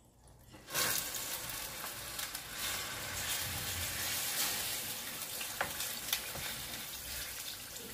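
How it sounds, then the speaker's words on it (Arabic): Chicken pieces fry in oil in a pan, a steady crackling sizzle that starts suddenly after a quiet moment and continues close-up with scattered pops. "نخليه يتقلى واحد شويه هنا في هاد الزويته"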